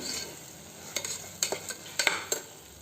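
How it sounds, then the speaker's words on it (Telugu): Masala frying in hot oil for broken wheat pulav, stirred with a spoon: a steady sizzle underneath with several sharp scraping clicks of the utensil against the pan at irregular intervals, close and moderately loud. "ఇదంతా బాగా ఫ్రై అయ్యి ఆయిల్ పైన తేలుతుందండి, అంతవరకు ఫ్రై చేసుకుందాం."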